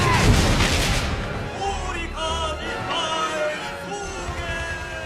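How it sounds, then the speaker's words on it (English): Anti-aircraft guns and falling bombs in a naval air battle against the battleship Yamato, heavy booms and bursts of fire crowding together, with shouting voices mixed into the din. "The U.S. pilots showed no fear of the intense barrage, dropping bombs under anti-aircraft fire"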